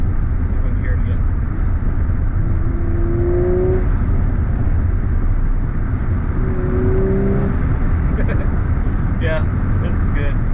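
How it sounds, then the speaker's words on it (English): An Audi RS5 with an 034 Motorsport Stage 1 intake accelerates hard, its engine droning loudly inside the cabin while brief blow-off valve whooshes show between shifts under steady road roar. "I get the giggles every time I hear that blow off, you know."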